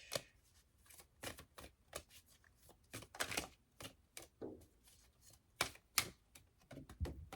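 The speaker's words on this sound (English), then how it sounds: "These cards are so hard to shuffle because they're ginormous" Oversized oracle cards being shuffled by hand, a quick run of crisp riffling flicks and slaps in irregular bursts, close and fairly quiet with no voice.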